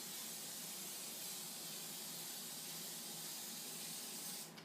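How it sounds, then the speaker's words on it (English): A continuous broad hiss of cooking spray is misted over broccolini florets before baking, close and steady throughout, with no speech. "Now, only spray the florets."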